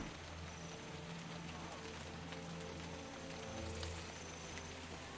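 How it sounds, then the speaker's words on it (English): Steady rain hitting the ground in the video game Guild Wars 2, a faint continuous patter with a low background hum throughout. "I can hear the rain hitting the ground"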